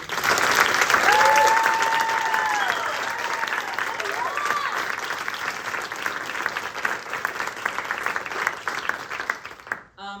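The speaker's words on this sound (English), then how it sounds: "Let's give one more round of applause." A theater audience gives a full, sustained round of applause at the end of a show, with dense clapping gradually easing, while voices and cheers rise over it near the start.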